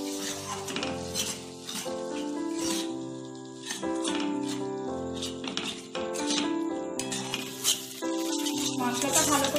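Spice masala for paneer masala is stir-fried with a little added water in a pan. A spoon scrapes and clinks against the metal in steady strokes over a low sizzle, close and fairly loud, with no talk.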